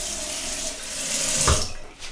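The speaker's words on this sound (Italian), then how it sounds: "possiamo procedere al risciacquo" Tap water runs and splashes steadily as a face is rinsed after a wet shave with Stirling Mountain Man soap, a brief louder splash standing out near the end, with no voices.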